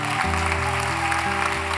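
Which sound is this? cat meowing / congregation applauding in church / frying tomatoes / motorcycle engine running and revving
congregation applauding in church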